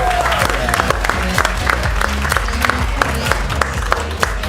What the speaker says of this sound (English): let's give a round of applause to our top 3 players so far